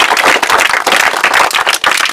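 An audience claps steadily for village teachers who gave a girl extra classes to help her earn good marks, a dense, continuous burst of hand claps with no voices over it.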